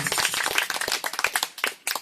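Congregation clapping at a church outreach service, a close, lively burst of many hands with sharp, uneven claps packed together over about two seconds.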